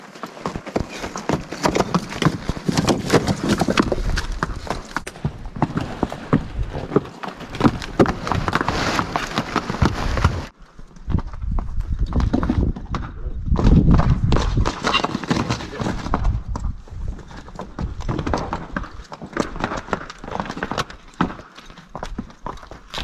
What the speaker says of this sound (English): Dang, that Spanish horse crawl up there like no problem.